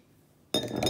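A metal thermometer probe gives a single sharp clink against a glass, ringing briefly with a bright tail, close and clear.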